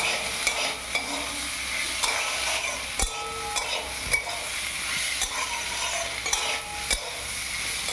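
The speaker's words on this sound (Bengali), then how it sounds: "সমানে কিন্তু খুন্তিতে করে নাড়াতে হবে, চালটা যেমন লেগে না যায় নিচে" Rice fries in a pan for a Bengali muri ghonto while a metal spatula stirs it, with repeated sharp scrapes and clinks over a constant sizzling hiss.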